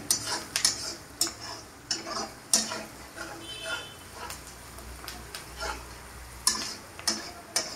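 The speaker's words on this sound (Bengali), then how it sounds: "পেঁয়াজটাকে একটু লাল করে ভেজে নিচ্ছি" Onions frying until reddish in a pan, a low sizzle beneath repeated sharp clicks and scrapes of a spatula against the pan in an irregular rhythm.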